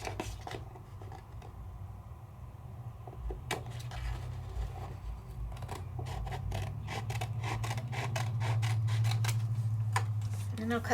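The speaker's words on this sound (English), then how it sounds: "I'm going to cut it right down the center" Scissors make quiet, uneven snips and rustles as they cut out sheets of Italian patterned paper, close by over a low steady hum.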